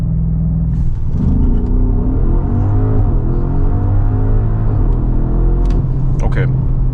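A 2026 Audi SQ7 V8 TFSI with 507 hp accelerates hard uphill on winter tires in Dynamic mode with ESC Sport, giving a loud, continuous in-cabin engine rumble with rising and shifting tones throughout.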